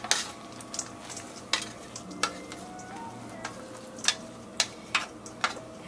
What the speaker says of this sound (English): Scrape all this bean out.